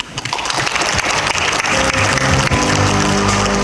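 Applause at a meeting of Korean mayors and district heads hosted by the Daegu mayor, a loud wash of clapping close by, joined partway through by sustained tonal sound underneath.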